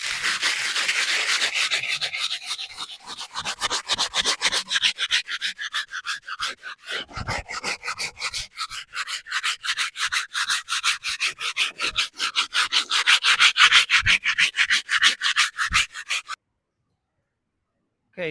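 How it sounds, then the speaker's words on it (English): Dry-mix concrete planter being sanded by hand, a steady rapid rasping of back-and-forth strokes, close and loud, running continuously for about sixteen seconds before stopping. "we're going to sand this out"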